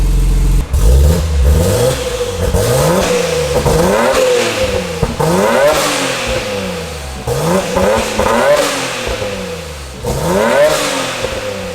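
A Nissan Skyline R34 GT-R engine revs repeatedly in rising and falling sweeps, fairly loud and close, with a fairly restrained exhaust note and no talking.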